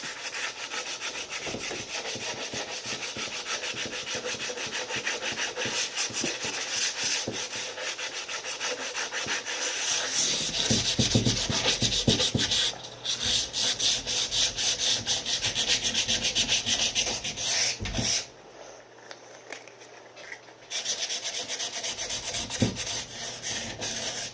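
Wax rubbed by hand onto a wooden surface and worked into the edges, a steady close scratchy rubbing of repeated strokes that runs on with brief pauses and no talking.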